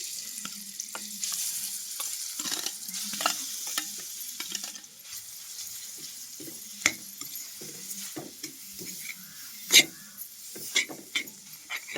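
Oil sizzles in a pan as food fries, with a spatula stirring and scraping and occasional sharp metallic clinks over a constant crackle.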